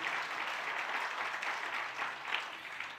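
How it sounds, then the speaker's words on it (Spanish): Congregation in a church applauding together, a steady wash of clapping held at moderate level throughout with no voices over it. "denles aplauso al Señor"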